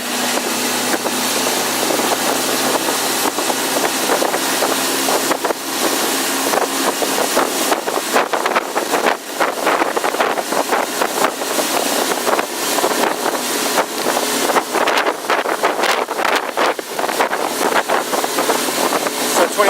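2007 Bennington 2250 RL tritoon pontoon boat under way on smooth water, a loud continuous rush of engine, hull and wind noise throughout, close to the microphone.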